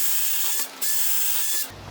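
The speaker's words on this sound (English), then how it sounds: "I'm just going to drill them out with that 9/64 inch drill bit" A drill boring out door hinge screws with a 9/64 inch bit, a steady high-pitched whine that runs for about a second and a half, dips briefly and then stops, close by with no talk.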